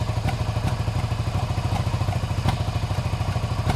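A Suzuki SV650 motorcycle engine idles nearby with a loud, uneven chugging pulse and irregular stumbles from a misfire, running on its own without speech.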